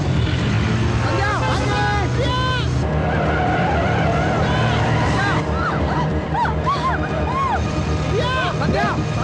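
A bus with failed brakes skids, its tires squealing in repeated rising and falling shrieks over a steady engine rumble, with voices murmuring in the background.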